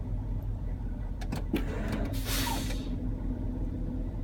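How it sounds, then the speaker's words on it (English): A truck's air brake compressor runs as a steady low mechanical drone throughout, with a few sharp clicks and a brief hiss of air midway, heard from inside the cab. "So I can hear my compressor"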